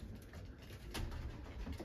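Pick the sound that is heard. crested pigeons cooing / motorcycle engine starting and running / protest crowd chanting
crested pigeons cooing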